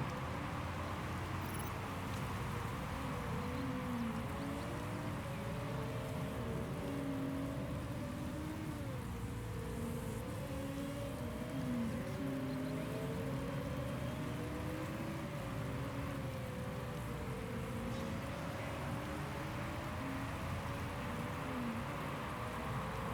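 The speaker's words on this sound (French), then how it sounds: "Il va pleuvoir pendant un moment, j'ai l'impression." Rain in the racing video game Motorsport Manager: a steady, dense patter of rainfall that runs without a break, with soft engine tones drifting in and out underneath.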